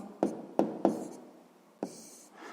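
Pen strokes on paper while a math solution is written out, several short sharp scratchy taps in an uneven rhythm, close and clear with quiet gaps between them.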